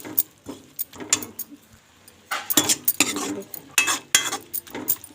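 A spoon stirs makhan saag with peanuts in a pan, giving repeated metallic scrapes and clatters in uneven bursts, close and prominent, with a voice speaking in between.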